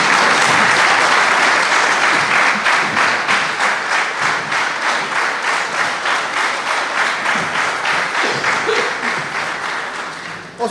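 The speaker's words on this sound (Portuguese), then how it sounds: "E vamos aplaudir como se fosse a primeira." Sustained crowd applause at a traditional 2024 carnival tambourine dance performance, loud and dense throughout, fading slightly toward the end.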